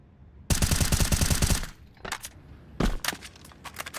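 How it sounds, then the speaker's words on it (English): Rapid automatic gunfire wall-banging through a wall on the Train map in Counter-Strike, a loud sustained burst followed by scattered single shots and shorter bursts, close and harsh. "One of the many wall bangs on the new version of Train."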